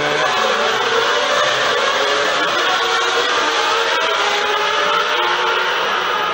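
Formula 1 race cars accelerate at the 1994 San Marino Grand Prix restart at Imola, a loud, dense, continuous high-pitched engine roar that holds steady throughout with no break.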